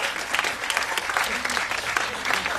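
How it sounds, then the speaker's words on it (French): An audience claps for a scene at a theatre forum, with brisk, steady applause from a crowd for a couple of seconds, fairly close and even in level. "on peut les applaudir quand même"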